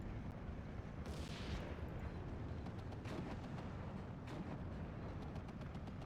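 Repeated gunfire and blasts crackle through a Steel Division 2 battle with a Sherman tank firing, a dense bed of distant booms and sharp cracks, one louder burst early on.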